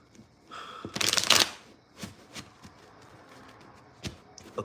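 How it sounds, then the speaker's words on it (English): Tarot cards riffled in one dense burst lasting under a second, followed by scattered soft card taps and handling clicks, close and quiet with no talking. "One more shuffle."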